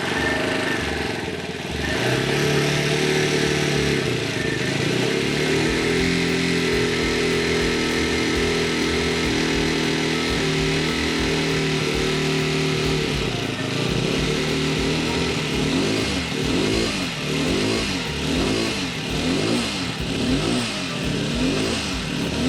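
A Yamaha TT250 motorcycle engine, newly assembled and still tight, idles and revs unevenly, its pitch wavering and surging throughout, loud and close, with a rough, uneven running sound.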